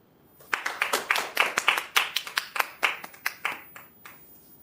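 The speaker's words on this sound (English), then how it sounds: "A clap for him, please." Audience clapping at a Federal Bank annual general meeting, a run of distinct hand claps in a fairly quick irregular rhythm that fades out, close and moderately loud with no talk.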